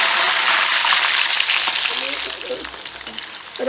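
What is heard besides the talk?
fenugreek and peeled garlic frying in oil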